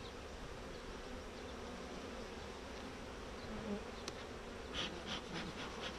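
Honeybee colony buzzing during an open hive inspection, a steady dense hum of many bees up close, with a few faint clicks and knocks from handling near the end and no talking.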